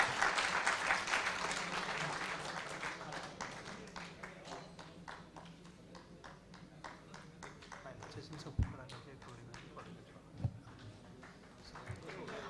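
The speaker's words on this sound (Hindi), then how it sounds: "आप सब तालियों से तो इस स्वागत में सहयोग दे ही सकते हैं।" An audience at an inaugural festival session claps to welcome the honoured guests, loud at first and then thinning to scattered claps. A few sharp knocks stand out near the end.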